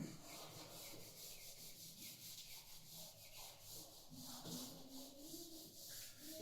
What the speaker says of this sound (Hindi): ठीक है, अब बाकी को मैं रब कर रहा हूं।